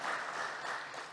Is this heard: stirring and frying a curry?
no